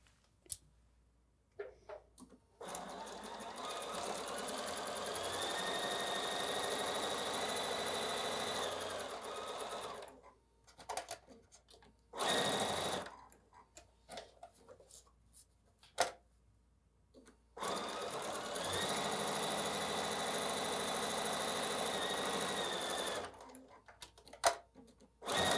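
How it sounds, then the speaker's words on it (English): A sewing machine runs quarter-inch seams on either side of a line across a quilt block, two long steady stretches of motor whir and needle clatter separated by quieter handling noises, close and moderately loud. "I'm just going to sew a 1/4 inch on either side."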